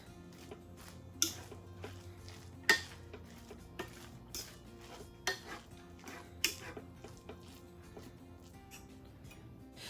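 Cooked rice being fluffed in a pot for Cajun dirty rice: quiet, scattered scrapes and several sharper clinks of a utensil against the pot over a faint background.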